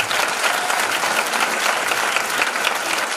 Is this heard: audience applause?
yes